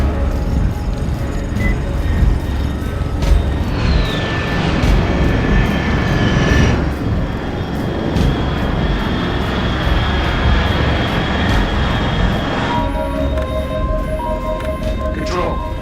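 Steady loud roar of an aircraft flying in Metal Gear Delta: Snake Eater, a continuous engine drone with rising and falling whines layered over it, sustained throughout.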